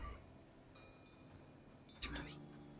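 A house cat gives a single short meow about two seconds in, faint against a quiet indoor room, with only soft background hum around it.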